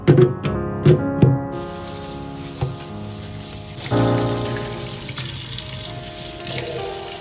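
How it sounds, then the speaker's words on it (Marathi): Tap water rinsing a soaped kitchen sink, a steady running stream with a few knocks and clatters of handling at the start and a gush partway through. "साबण लावून झाल्यानंतर मस्त पाण्याने सगळं सिंक स्वच्छ धुवून घ्यायचं आहे"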